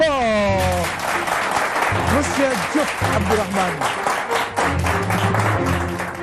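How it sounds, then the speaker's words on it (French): Loud audience applause at a televised quiz game show, steady dense clapping filling the room while a host's voice speaks over it. "je vous demande d'applaudir très fort"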